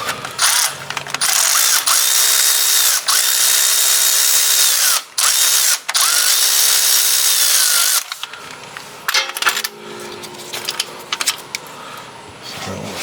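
A 3/8 ratchet with a 9/16 socket spinning out bolts on a 1978 Chevy Malibu Classic engine during removal; long loud whirring runs with brief stops, then clicks, clanks and handling noises, close up.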